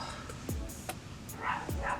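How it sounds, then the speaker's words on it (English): A dog barks outside, a few faint distant woofs spaced across two seconds under quiet indoor room tone. "Y'all hear my dog outside? He's not the barking type"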